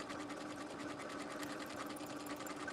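A sewing machine stitches steadily along a marked line, its fast, even mechanical chatter running unbroken and fairly quiet throughout.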